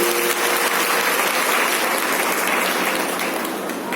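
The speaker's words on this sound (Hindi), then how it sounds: "पहले सब दीदी के लिए जोरदार ताली होनी चाहिए।" Loud, dense audience applause at a DXN business meeting, a continuous roar of clapping that holds steady and eases slightly at the end.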